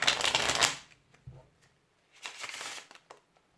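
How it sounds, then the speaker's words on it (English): Riffle shuffle of a decent deck of playing cards, a dense fluttering riffle at close range, then a second shorter riffle after a brief pause. "the riffle shuffle"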